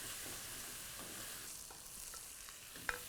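Steady sizzling of spices, including black pepper and cinnamon, frying in hot oil for a tempering, a soft crackling hiss throughout with one sharp pop near the end.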